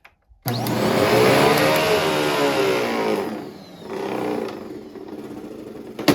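A 12 amp vacuum cleaner switches on with a loud whirring roar, holds a steady drone, dips briefly, then continues running close by.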